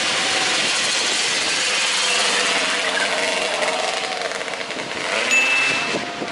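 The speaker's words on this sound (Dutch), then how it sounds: "De motor rijdt door op dezelfde snelheid." A motorcycle engine holds a steady speed during a riding test, a continuous droning hum at moderate distance that stays even throughout, with a faint brief whistle-like tone near the end and no talking.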